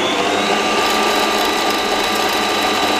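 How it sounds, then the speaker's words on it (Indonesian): An electric mixer whirs steadily, beating egg whites with granulated sugar for a pudding, a dense continuous motor drone with no pauses. "Kita mixer lagi."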